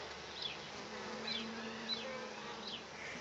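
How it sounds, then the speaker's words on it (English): Honey bees swarm over a beehive frame in a dense, continuous buzzing hum, with individual bees droning past close by now and then. "look at all the bees in the one spot"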